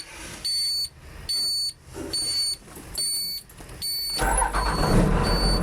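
A car gives a series of evenly spaced electronic beeps, then the engine cranks and starts with a rumbling roar.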